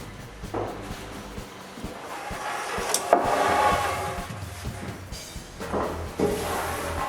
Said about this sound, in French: Je commence donc par mettre tout le bois que je garde pour cette porte-là à la même place